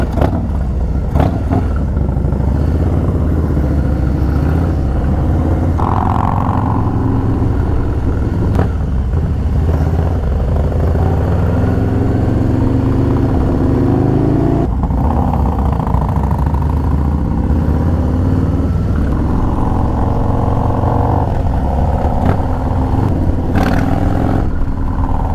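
A Stage 2 Harley-Davidson motorcycle engine runs loud and close throughout, idling with a rumbling clatter and rising in brief revs, with no talking.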